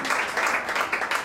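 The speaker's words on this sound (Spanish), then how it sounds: "Feliz Solimiento, un aplauso." Audience applause at a live quintet performance, a steady wash of many hands clapping that stays fairly loud and even throughout, with no voices over it.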